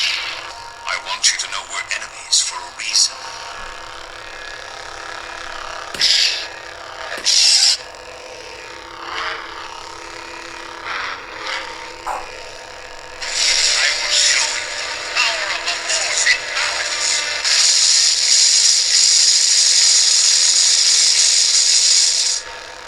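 A Crimson Dawn Banshee lightsaber sound font crackles and hisses with gritty, buzzing swings and clashes, bursts of harsh noise rising and falling over about twenty seconds, some of it vocal-like in texture.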